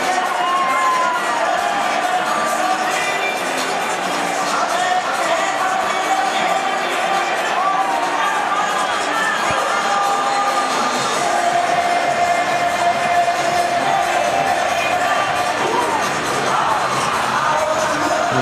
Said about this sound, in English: The crowd warming to the task perhaps on the hill here at the Adelaide Oval